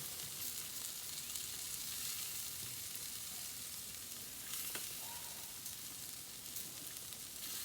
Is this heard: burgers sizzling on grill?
yes